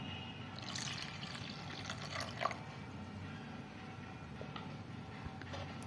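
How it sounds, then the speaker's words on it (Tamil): Coconut milk is poured into a pot, giving a soft, faint, continuous trickling pour with light splashes and a small bright splash partway through. "உங்களுக்கு எவ்வளோ தேங்காய் பால் வேணுமோ ஊற்றிக்கோங்க."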